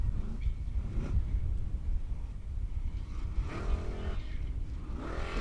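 A Formula Offroad buggy engine on an Icelandic hill course revs hard in repeated surges, loud and close, with rising whines as the car struggles and reverses on the slope.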